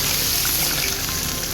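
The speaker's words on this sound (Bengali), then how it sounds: "জল ঢাল আগে, জলটা ঢাল।" Water pours in a steady, dense rush at an outdoor picnic cookout where pakoras are being fried, loud and close for a brief moment with no voices.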